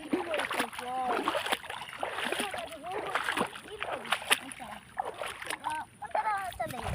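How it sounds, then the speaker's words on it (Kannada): Rainwater flows through a channel in monsoon weather, a close, steady splashing and sloshing stream heard under a person talking throughout. "ಇಲ್ಲಿ ನೀರು ಹೋಗ್ತದೆ ನೋಡಿ, ಇಲ್ಲಿ ನೀರು ಹೋಗ್ತಿದೆ"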